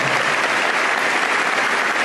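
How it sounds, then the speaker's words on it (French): Loud, dense applause from a large crowd at a Bible study gathering, a continuous wash of clapping throughout. "Un fort applaudissement pour nos frères et sœurs."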